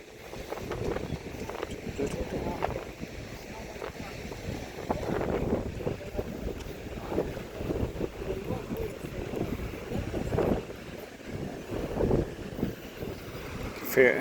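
Gusty wind blows at a beach in La Mata, Spain, buffeting the microphone with a fluctuating low roar that rises and falls throughout.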